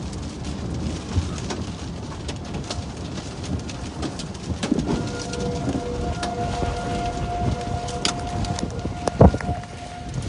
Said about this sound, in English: I don't know if y'all can hear that, but tornado sirens are blaring.